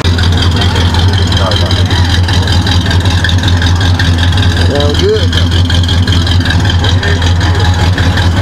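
A Ford Mustang engine runs at a car and truck show, a steady deep low rumble continuing throughout at moderate distance, with people chatting over it.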